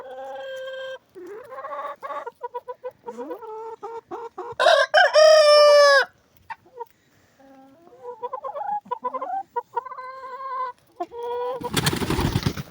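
Backyard hens and a rooster in snowy winter surroundings: a run of clucks and calls, one loud drawn-out crow in the middle, then more clucking and a burst of noise at the end.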